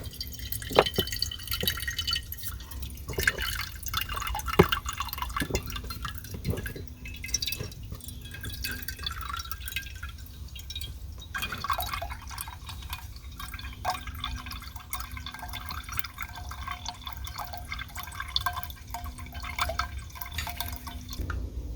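Water runs steadily into a pot for boiling eggs at a picnic table, a continuous close, moderately loud splashing and dripping fill lasting the whole stretch, with no talk.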